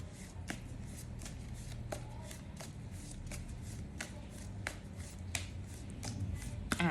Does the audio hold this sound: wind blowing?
no